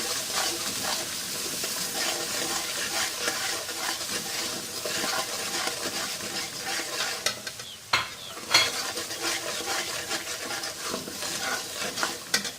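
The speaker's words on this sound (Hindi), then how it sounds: "मैं इसमें लाल मिर्च, गरम मसाला, नमक, हल्दी और थोड़ा सा खटाई पाउडर शामिल करूंगी और इसको अच्छे से मिलाऊंगी" Red chilli, garam masala, salt, turmeric and dried mango powder sizzle and fry in a hot pan while a spoon stirs them, scraping and clinking against the metal in uneven bursts.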